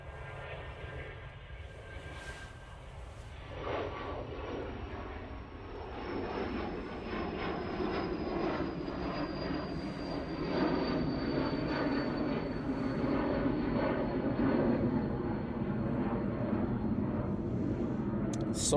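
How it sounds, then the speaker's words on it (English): A business jet at Manchester Airport, whose engine roar rises gradually from a quieter start to a sustained, fairly loud rumble, with a faint high whine sliding slowly downward. "there we go, BizJet"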